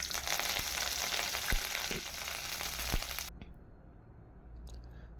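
Cinnamon, cloves, curry leaves, fennel and coriander seeds fry in hot oil as the base for a mutton curry. A strong close sizzle with stirring crackles drops to a quieter hiss after a few seconds.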